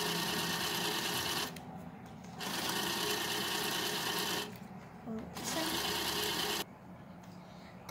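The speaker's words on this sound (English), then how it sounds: "I'm putting all the money in to show you how it sucks the money." Electronic bank safe mechanically sucking in banknotes, a close whirring motor that runs in three bursts separated by short quiet gaps.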